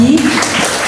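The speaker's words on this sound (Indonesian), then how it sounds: "boleh dong kita berikan tepuk tangan untuk Mas Adi." Applause from an audience at an Indonesian civil-servant training podcast session, a short, dense burst of clapping that fills the moment.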